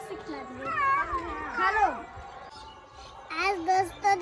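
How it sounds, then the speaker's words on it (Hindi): A house cat that has come back after many days gives several drawn-out, rising and falling meows, with a pause between them. The cries are close and loud, with voices talking nearby. "मियाँ मियाँ करती है, मियाँ मियाँ करती है।"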